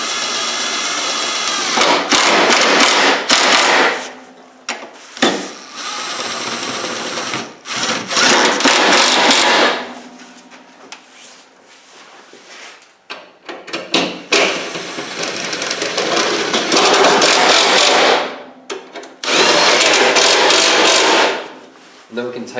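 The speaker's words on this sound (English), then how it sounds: "now we can tighten down our 10mm bolts" Power tool or ratchet tightening 10mm bolts on the radiator cross member of a Jeep Cherokee XJ during an aluminum radiator install, in loud repeated bursts of a few seconds each separated by short pauses, close by.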